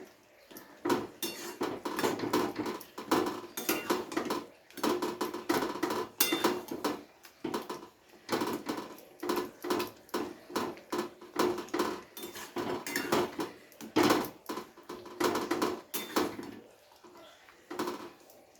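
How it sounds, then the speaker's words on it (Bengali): Metal spatula scrapes and knocks against a pan as tomatoes are pressed and mashed into chutney, a busy run of clattering taps and scrapes in quick irregular bursts with short pauses. "এইভাবে খুন্তি দিয়ে হোক বা হাতা দিয়ে হোক একটু চেপে চেপে টমেটোগুলোকে গালিয়ে নিতে হবে খুব ভালো করে"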